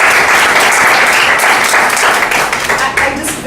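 A room full of listeners applauds loudly and steadily after a speech, the dense clapping sustained throughout and fading slightly toward the end.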